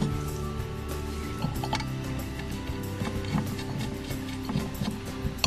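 Screws are driven into the metal pivot mount plate of an aerial, giving a steady mechanical whir and clicking like a ratchet or driver, close and continuous with small bursts of ticks.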